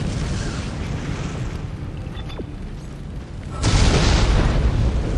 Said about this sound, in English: Lots of things exploding.